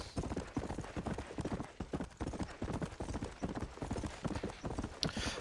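Horse hoofbeats clip-clop steadily and close in the Red Dead video game, a continuous galloping rhythm with an occasional faint whinny.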